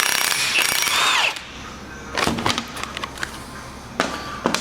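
A power tool rattles loudly for over a second while removing a nut on a Ford Territory driveshaft, then stops, followed by several short bursts and metallic clanks nearby.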